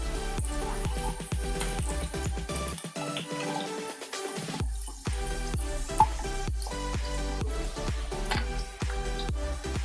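Whole garlic cloves sautéing in a pan for a capsicum egg bhurji: a steady sizzle and crackle with repeated clinks of a spoon stirring against the pan, and a brief quieter moment partway through.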